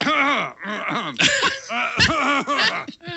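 A person coughs and clears their throat several times in quick, harsh bursts, close by.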